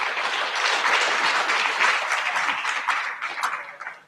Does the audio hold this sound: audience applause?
yes